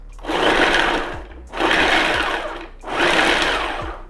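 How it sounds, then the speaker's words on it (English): A Ninja PrecisionPro food chopper chopping carrots on its chop setting, three loud close motor bursts about a second each, separated by brief pauses. "we'll run this on our chop setting, probably with 2 total chops"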